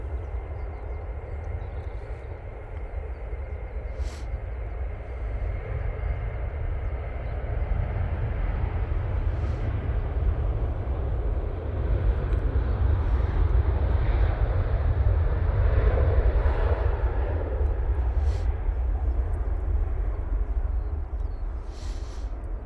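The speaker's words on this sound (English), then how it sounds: "Jet 2 going off to Antalya now using the 737." A Jet2 Boeing 737 takes off from Manchester Airport bound for Antalya, a steady broad engine roar that swells gradually from a distance and stays loud throughout, with no talk.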